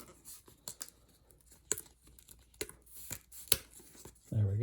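A blade cuts through a punched board-game sheet in short, light bursts of tearing and snipping, close and fairly quiet, with a low thump at the end.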